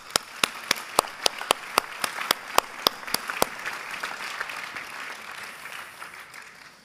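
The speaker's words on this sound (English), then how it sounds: "But a round of applause for Georgina and all our national winners." Audience applause at the Golden Tracks 2021 European Athletics awards ceremony, opening with a run of sharp, evenly spaced single claps near the microphone, then a softer, dense wash of applause from a wider crowd.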